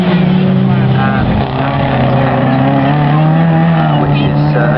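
Aston Martin race cars at Snetterton roar past in a steady, loud engine drone with a brief dip partway through, under continuous race commentary.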